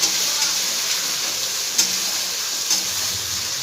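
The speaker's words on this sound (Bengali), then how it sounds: "ভালো করে মশলাটা আমি ভেজে নেবো" Spice paste (masala) frying in a pan for jackfruit curry (echorer dalna), a steady broadband sizzle with a few brief stirring clinks, close and continuous with no talking.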